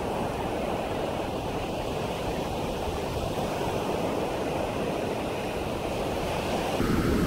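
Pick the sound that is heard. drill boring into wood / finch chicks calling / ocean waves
ocean waves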